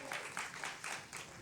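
A church congregation gives a brief birthday round of clapping, soft and fairly distant in bursts, with talk underneath.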